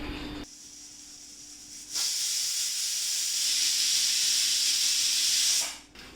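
A pressure cooker with soaked dal vents steam in a loud, steady hiss that starts abruptly, holds for several seconds, then cuts off sharply, with no voices.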